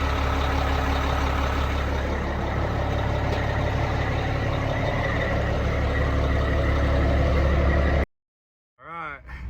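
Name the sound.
semi truck engine running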